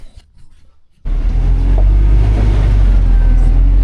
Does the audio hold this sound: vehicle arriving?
yes